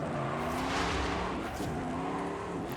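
A diesel car in Forza Horizon 5 drives with a steady low engine drone, its harmonic tone sliding gently as it accelerates and holds speed, with a faint tire scrub near the end.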